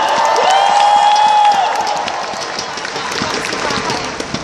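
A large crowd at a company success-story event claps and cheers loudly, with a whistle and whoops near the start, the applause then settling into steady clapping.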